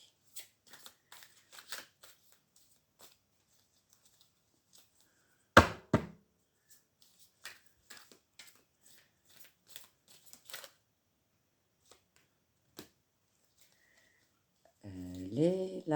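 A deck of cards shuffled by hand for a card reading, heard as soft, close, scattered riffles and taps with a sharper flurry midway, followed by a voice speaking near the end.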